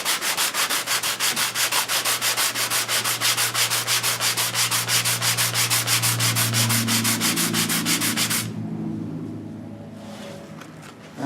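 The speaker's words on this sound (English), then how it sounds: "take my rubber sanding block and just wrap the sandpaper around it and go to work" Sandpaper wrapped around a rubber sanding block is rubbed over wood during window and cabinet work, making a steady, close rhythmic rasp of rapid back-and-forth strokes for about eight seconds before stopping, with only a low hum remaining.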